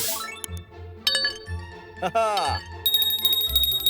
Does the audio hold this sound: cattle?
no